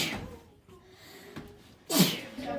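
During home renovation demolition, one person lets out a sharp, close sneeze near the end, over a low room hum and faint background noise.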